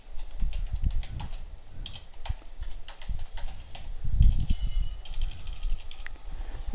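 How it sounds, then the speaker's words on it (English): Typing on a computer keyboard while entering text in Notepad on Windows 7: a steady run of close, dry key clicks in uneven bursts, with slightly louder thumps around the middle and no talking. "you can type something like this."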